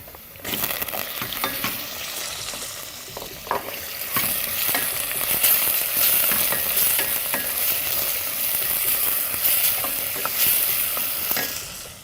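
Fish fillet pieces fry with onion in a pot, giving a loud continuous sizzle with frequent stirring clatters and scrapes up close, no voices.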